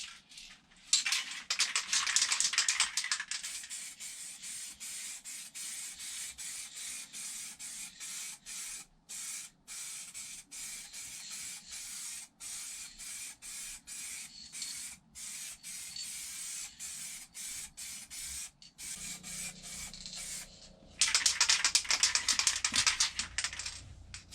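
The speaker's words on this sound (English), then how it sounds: "I'm going to start with just a light coat of silver to show up any blemishes" A spray gun lays a light silver top coat on a Kawasaki ZX10 motorcycle frame, with close hissing bursts at the start and end and quieter intermittent spraying in between, alone without speech.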